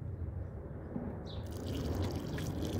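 Water poured onto plants in a vegetable garden, a soft, steady splashing trickle that swells slightly, faint and close.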